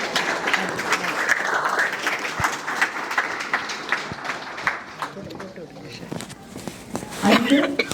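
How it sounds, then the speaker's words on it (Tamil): Audience applause at a public talk event, a steady dense patter of many hands filling the room, with a brief swell near the end and some voices mixed in. "ஒரு பெரிய கரகோஷம் கொடுப்போம் அக்கா"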